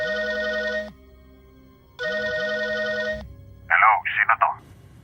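Cellphone call ringing with two long, clear electronic ring tones and a low buzzing pattern beneath, followed by a short burst of speech-like sound.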